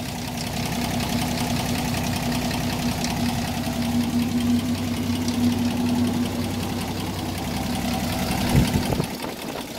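A 1978 Toyota Land Cruiser with an inline-six engine runs at a steady idle, close and loud, with a constant low drone and a rough, knocking texture. It cuts off sharply with a clunk just before the end.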